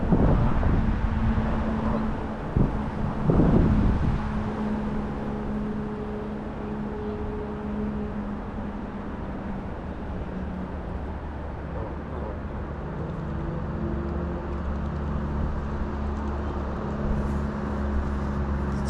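Wind buffets steadily across a microphone beside a fishing lake, a constant low rushing roar with a few louder gusts near the start and faint intermittent speech beneath it.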